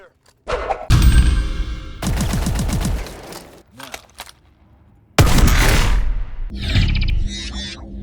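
Shotgun blasts from a first-person shooter, loud heavy thumping shots in quick bursts with reload and mechanical clicks between, mixed with game effects.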